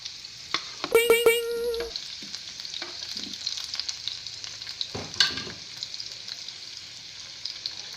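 Tomatoes sauté in a pan with a steady low sizzle, a brief tonal clatter of utensils early and a sharper stirring scrape midway, no talking.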